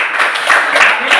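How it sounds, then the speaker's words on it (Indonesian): A short, loud burst of clapping from a group of people in a classroom lesson, dense and close, lasting about a second. "kita berikan tepuk tangan"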